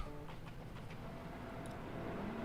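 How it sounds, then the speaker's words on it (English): A train pulls out of a station in the A-Train 9 railway simulation game, a soft, steady rolling rumble with faint rail clatter and a few light high clicks, heard alone without talk. "The anxious wait for the train to leave."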